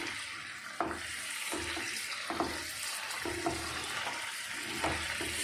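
Milk fat from packet dairy milk bubbles in a pan as ghee cooks down, a soft, continuous crackle of sizzling with small scattered pops, fairly quiet and close, no voices.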